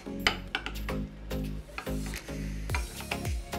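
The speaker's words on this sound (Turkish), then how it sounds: "Karıştırıyorum." A spoon stirs roasted zucchini into yogurt in a bowl, giving repeated close clinks and soft scraping knocks in an uneven rhythm, with no talking.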